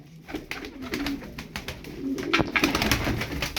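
Pigeons coo in low, throaty warbles, several birds overlapping close by, with fluttering and scratchy rustles around them.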